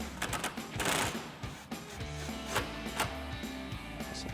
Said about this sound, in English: Now we'll grab our 13 mil socket on our impact, tighten down our side mounting bolt first.